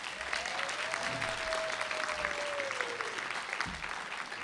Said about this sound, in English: So give those elected officials a round of applause.